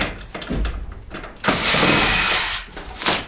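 A power drill backing screws out of a trailer ceiling whirs in short, close and loud bursts, the longest lasting about a second, with faint clunks between them.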